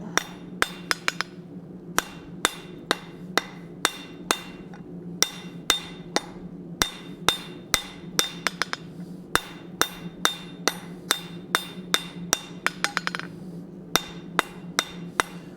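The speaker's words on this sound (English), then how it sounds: "now I'm going to start easing up on the hammer blows" Ringing metallic hammer strikes on hot steel on an anvil while forging a hot cut hardy, steady and repeated with occasional quick bursts, close and bright over a low background hum.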